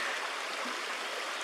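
A small creek flows over rocks on a trail in Steinman Run Nature Preserve, Lancaster County, Pennsylvania, giving a steady, close, rushing babble with no talk.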